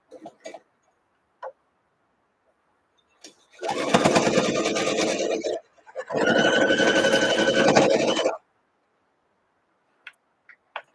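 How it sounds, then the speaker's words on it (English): Sewing machine stitching a flying-geese quilt block, two close bursts of fast, steady mechanical whirring, the first about two seconds and the second about two and a half, separated by a short pause and framed by faint clicks. "I'm going to sew it that side down."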